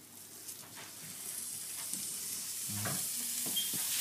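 Hot oil sizzles steadily in a pan while spaghetti sauce is being started, a close, continuous hiss that builds slightly louder, with a single brief word spoken over it.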